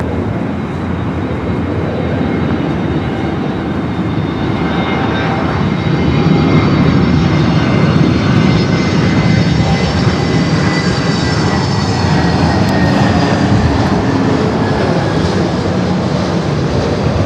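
A jet airliner lands on runway 24 right at Los Angeles International Airport, its engines roaring loudly and continuously with a rising and falling whine as it passes fairly close.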